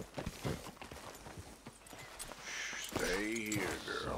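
A horse's hooves clip-clop in the Red Dead Redemption video game, soft rhythmic steps followed by a snort or whinny, with someone talking over it.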